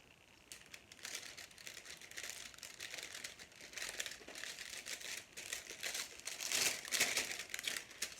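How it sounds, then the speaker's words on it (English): A plastic shrink wrap bag crinkles and rustles continuously as bars of handmade soap are pushed inside, close and fairly quiet, with crisper bursts of crackling near the end. "So I'm just going to get them in the shrink wrap bag."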